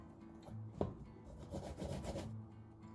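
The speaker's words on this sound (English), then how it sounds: "Be careful when grating your cocoyam so you don't wound your hand." Cocoyam grated by hand, giving soft, uneven scraping strokes that are quiet and close with no talking.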